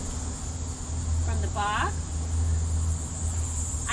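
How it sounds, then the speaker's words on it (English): Honeybees hum steadily inside a wooden hive box while the frames are inspected for cross combing, a low continuous drone with a brief spoken phrase over it partway through. "I can hear them buzzing."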